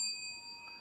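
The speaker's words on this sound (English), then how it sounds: "hold on, let me hit my bell" A small desk bell struck once, leaving a thin, faint, sustained metallic ring that fades slowly across a brief moment.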